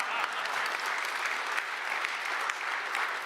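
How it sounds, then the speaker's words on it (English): Audience at a Salt Lake City Airport event celebrating the unveiling of its new Central Tunnel bursts into sustained applause, a dense, steady wash of many hands clapping throughout. "Oh, go ahead, you can clap."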